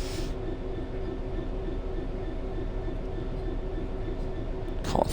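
Class 66 freight locomotive shunting aggregates hoppers at a loading site, its engine a steady loud drone with rumbling wagons throughout, a brief sharper burst near the end.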